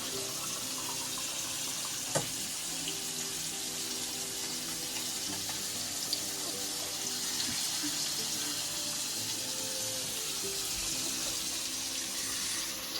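A plate is washed under a running kitchen tap, a steady close stream splashing continuously with a few faint clinks of dishware.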